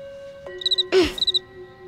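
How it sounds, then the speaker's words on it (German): A cartoon cricket chirps at bedtime, loud bright trills in two bursts of four around a sharper central squeak, set against a sustained tonal backdrop with no voices. "Bei dem Grillenzirpen kann man unmöglich einschlafen."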